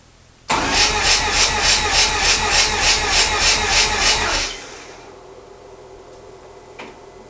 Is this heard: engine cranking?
yes